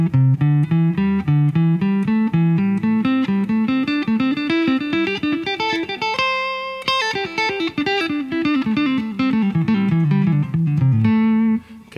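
An electric guitar runs quickly through a pentatonic scale in repeating four-note groups, climbing and then descending in an even, steady stream of picked notes, played alone and up close.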